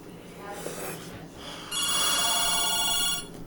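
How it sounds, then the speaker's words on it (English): A telephone rings with a bright electronic trill that starts partway through, loud and near, after a stretch of indoor room noise and faint voices. "Phone. Telephone."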